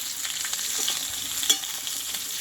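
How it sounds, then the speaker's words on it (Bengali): Pointed gourd (potol) pieces fry in oil and are stirred in a pan for a vegetarian mung dal dish, a continuous close sizzle with light scraping strokes and a clink near the end, no voices. "পটলটা কিন্তু অর্ধেকটা কষা হয়ে গেছে"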